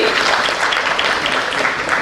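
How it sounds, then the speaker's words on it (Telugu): Audience applause at a women's empowerment meet: brisk, dense clapping from a crowd, steady and fairly loud throughout the short span. "ఒకసారి గట్టిగా చప్పట్లు కొట్టాలండి"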